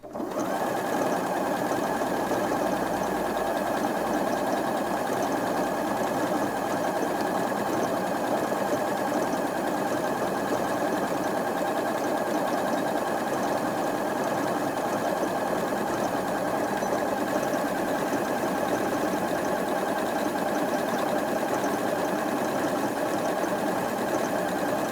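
A Janome Atelier 7 Anniversary Edition sewing machine runs decorative stitches in one long continuous stretch, its fast, even mechanical whir close and steady from start to finish.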